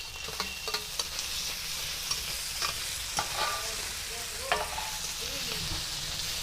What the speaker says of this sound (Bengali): এবার এই ফোড়নের মধ্যে আমি টমেটোগুলো দিয়ে দিচ্ছি।